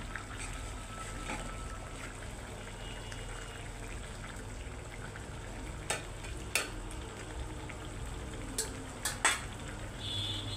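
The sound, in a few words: hilsa fish frying and being stirred in curry with gourd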